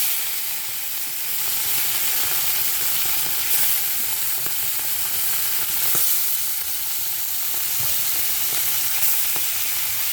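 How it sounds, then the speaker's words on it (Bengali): Fish frying in a pan, a loud continuous close sizzle and hiss that stays even for the whole stretch, with a few faint clicks and no talking. "এইভাবে আমি সব কয়টা মাছ ভেজে নেব।"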